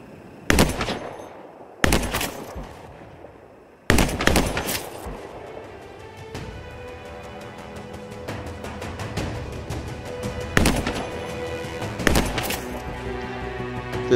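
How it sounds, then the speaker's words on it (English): Sharp, echoing single shots from the Whirlwind, a semi-automatic sniper rifle in the video game Anthem, fired at spaced intervals amid a busy game soundscape, with a looser cluster of reports near the end. "This is, I believe, the Whirlwind sniper rifle. It's like a semi-automatic rifle."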